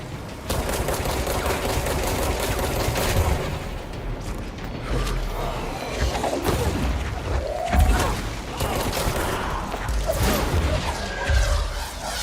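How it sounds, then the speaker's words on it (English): Enemy rockets blowing up in the action game Control, a dense stretch of booms, crashes and gunfire-like bursts, loud and near throughout. "So many goddamn rockets."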